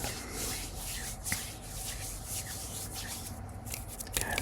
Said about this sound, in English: hand rubbing